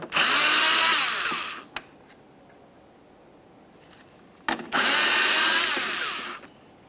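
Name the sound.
power tool removing 7mm bolts from Lincoln Navigator taillight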